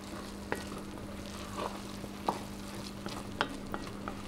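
A spoon stirs stock through a pea and mint risotto in a pan, giving soft scraping strokes and faint bubbling, quiet and close with no talking.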